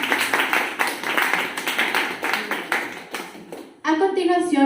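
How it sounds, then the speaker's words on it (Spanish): A few people clap at a body-mind-healing talk, with distinct, fairly close claps in an uneven rhythm. A voice starts speaking near the end. "por favor démosle también un aplauso a Pedro Almeida."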